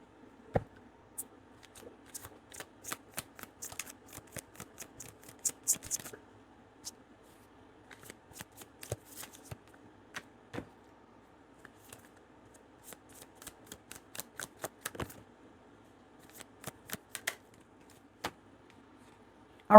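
Tarot cards are shuffled in short irregular bursts of crisp riffling and flicking, faint and close, with quiet pauses between the clusters of card sounds.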